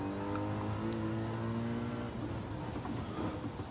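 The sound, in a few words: race car engine in video game Gran Turismo 7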